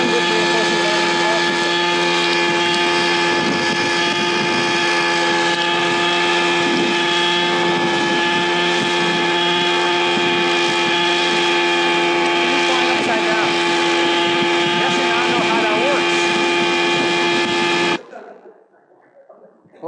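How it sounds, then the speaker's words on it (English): An autonomous helicopter flying during a control demonstration, producing a loud, continuous droning whine of engine and rotor for about eighteen seconds before it cuts off abruptly into near silence. "So here's a solution to controlling a helicopter,"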